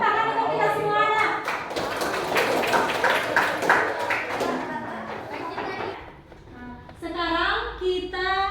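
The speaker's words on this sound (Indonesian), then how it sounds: "tepuk tangan untuk kita semua anak." A classroom of children bursts into a few seconds of lively, dense clapping, with a voice before and children's voices after.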